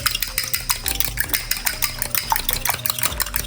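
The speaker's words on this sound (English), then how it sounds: "I'm just gonna whisk them with my fork" Two eggs whisked with a fork in a bowl, the tines clicking against the sides in a quick, steady rhythm, close and clear with no talking.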